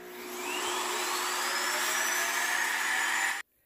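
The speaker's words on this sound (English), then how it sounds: "this awesome self-emptying bin is quite loud" A Shark IQ robot vacuum's self-emptying base roars loudly as it sucks out the dustbin, a steady high whine with a slowly rising tone that stops abruptly after about three seconds.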